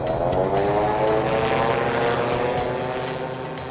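A gyroplane takes off from runway 30 with a loud, steady propeller drone and engine hum that fades slightly as it climbs away.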